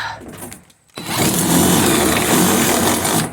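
Drill rattling against the metal of an old abandoned semi trailer, a softer buzzing start, a brief pause, then a loud sustained grinding whir that runs steadily to a sudden stop.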